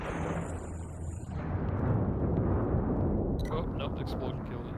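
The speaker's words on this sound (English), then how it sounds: "the explosion killed it" A spaceship explosion in the space combat game Infinity: Battlescape, a loud, broad rumbling blast that swells and sustains for several seconds, with game effects and crackling debris layered on top.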